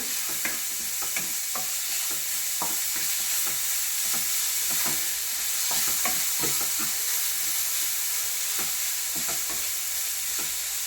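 Mulberry leaf thoran with green chilli and curry leaves is stirred in a pan over a constant loud sizzle, with quick, irregular utensil scrapes and taps throughout.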